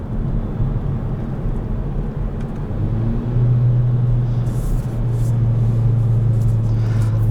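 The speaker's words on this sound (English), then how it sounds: "Now I'll go ahead and I'll use the paddle shifters." A 2021 Kia Forte GT engine drones loudly and steadily while driving, its pitch stepping up as the paddle shifters change gears, with road rumble throughout and no talking.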